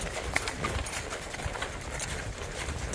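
Gaited horses walking along a trail ride, with soft clip-clop hoofbeats under a steady outdoor wash of background noise, a few faint bird calls, moderately distant.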